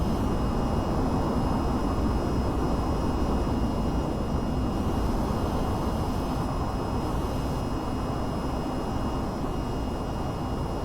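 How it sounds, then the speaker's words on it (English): A VTOL jet in the flight game VTOL VR makes a loud, steady broadband engine roar with a faint high whine, holding constant through a vertical takeoff and never fading. "Alright, I kind of did a vertical takeoff."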